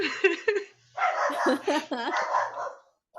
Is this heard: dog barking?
yes